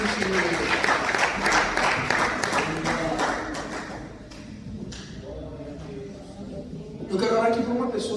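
Church congregation giving a round of applause, dense clapping that fades out midway, with a voice speaking over and after it.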